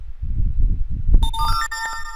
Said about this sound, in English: Okay, we got notification already.